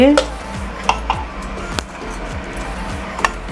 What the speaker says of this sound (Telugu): ఇప్పుడు ఇంకోసారి తిప్పుకుందాం